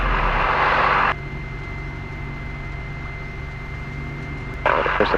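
A light aircraft's engine idles steadily just after start-up in hot tropical conditions, a constant droning hum with a steady whine, louder bursts of noise at the start and end.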